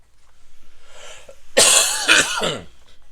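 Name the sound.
cough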